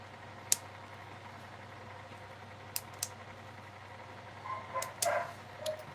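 A dog whimpering and giving a few short yips, with sharp isolated bark-like bursts and a cluster of whiny cries near the end, fairly faint against a quiet indoor room hum.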